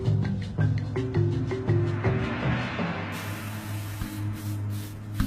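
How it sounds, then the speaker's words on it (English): Chlorine sprayed over a room and a body to kill Ebola germs, a close, steady hiss that swells and continues beneath a pulsing, tonal background. "They sprayed Grandfather's room and his body with chlorine to destroy the Ebola germs."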